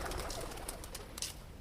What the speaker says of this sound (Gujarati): કબૂતરા ઉડ્યા